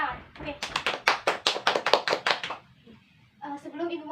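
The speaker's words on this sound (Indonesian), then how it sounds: "mari kita beri apresiasi kepada kalian dengan tepuk tangan" Students in a classroom clap in a quick burst of roughly a dozen sharp, close hand claps, then the clapping stops and a voice starts talking.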